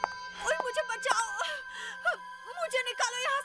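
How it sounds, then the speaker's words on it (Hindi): A girl, trapped and calling for help, cries and wails in a string of moaning, sobbing bursts and gasps, close and loud over a faint steady electrical hum. "लड़की के रोने की आवाज"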